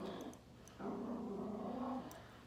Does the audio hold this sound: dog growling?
yes